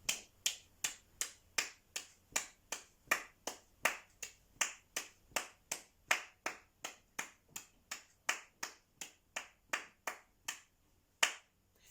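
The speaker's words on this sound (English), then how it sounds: "Let's clap that rhythm now." Sharp hand claps, about thirty of them, beat out a steady quaver rhythm during a music lesson, each one crisp, close and evenly spaced, with no talking.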